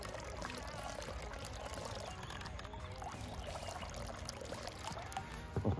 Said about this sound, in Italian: Adesso vado un attimo a scolare l'acqua e butterò un po' di mais e ceci cotti.